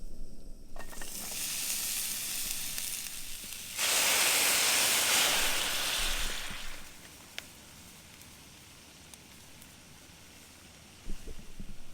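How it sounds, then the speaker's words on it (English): Apple cinnamon pancakes frying in a pan give a steady close sizzle that turns into a louder, brighter hiss for a few seconds before easing back to a softer crackle. "So this morning I'm going to make apple pancakes."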